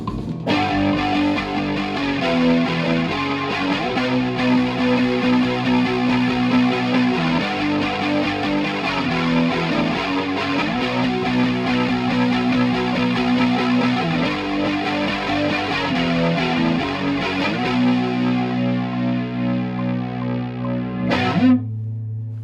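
A distorted electric guitar plays a continuous, dense riff at steady volume, thick and saturated, ending with a brief bright stab.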